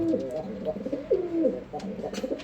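A male pigeon coos close by in a few repeated, throaty rolling calls that dip and rise, each lasting under a second, with faint background sound between them.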